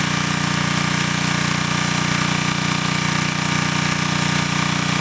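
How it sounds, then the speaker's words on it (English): Engine fuelled by wood gas from a gasifier, running at a steady, unbroken drone with a constant hum and rough mechanical texture throughout, loud and close with no voices. "the main thing is just to let everybody hear the stability of the engine"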